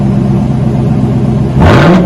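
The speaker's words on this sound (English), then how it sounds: "Once it comes off cold idle, it does come down, tame down a little bit." A 2021 Chevrolet Silverado Trail Boss with a True X pipe exhaust idles with a steady, loud low rumble, then briefly revs up with a rising whir near the end.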